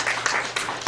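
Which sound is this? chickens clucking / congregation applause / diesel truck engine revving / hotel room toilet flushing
congregation applause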